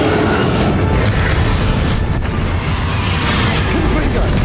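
Spell blasts crash continuously during a Hogwarts Legacy final boss fight, a dense wall of rumbling booms and magical impacts that stays loud throughout, with voices mixed into the din.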